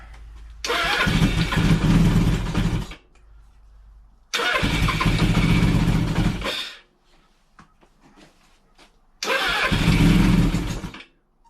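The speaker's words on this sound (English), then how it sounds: "Definitely got a header leak somewhere." A 1983 Suzuki GS1100E motorcycle engine with an exhaust header leak is cranked and fires three times in loud bursts, each running a couple of seconds with a raspy, ticking exhaust before dying.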